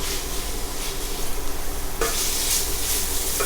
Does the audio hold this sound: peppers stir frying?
yes